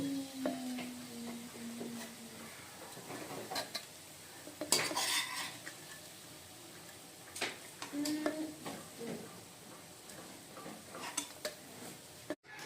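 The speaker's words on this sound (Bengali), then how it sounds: "এখন এটা একটা ছাঁকনির সাহায্যে আমি তেলটা ছেঁকে উঠিয়ে নিব।" Metal utensils clink and scrape against a pan and sieve as hot frying oil is strained off crisp fried onions, with scattered clatters, a sharper knock near the middle and a faint sizzle underneath.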